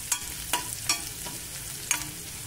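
Food frying in a pan on a medium flame, with a steady low sizzle broken by four sharp stirring scrapes spread across the stretch, close and fairly quiet.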